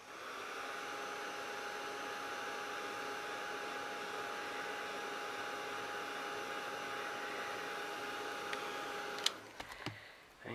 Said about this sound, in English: Heat that up again.